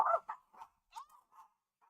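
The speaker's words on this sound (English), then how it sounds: "Sorry for the barking." A pet dog indoors gives a few short, sharp barks in quick succession, moderately close, alone with no talk over them.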